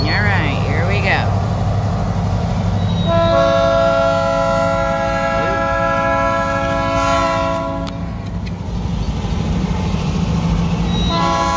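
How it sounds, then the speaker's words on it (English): A toy train runs with a steady mechanical rumble and sounds its electronic horn in a long sustained toot lasting several seconds, loud and close, with a voice and adults talking around it. "Check out him honking for you, Mr. Rignell."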